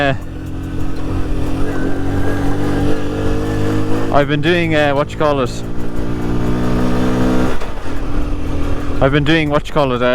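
Honda C50 motorcycle from 1997 running steadily under a ride, its small engine droning loud and close throughout, with someone talking over it in several bursts.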